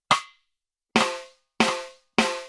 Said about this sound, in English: I trigger a rim shot.